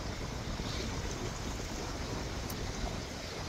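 Steady wind buffets the microphone as waves wash along the bank of a broad river, a continuous broadband roar with no break for the whole stretch.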